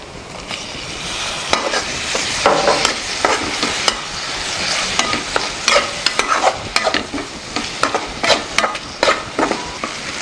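Potatoes and green chillies fry in a pan, a steady close sizzle broken by repeated scraping and clinking as a spoon stirs them, with no talking.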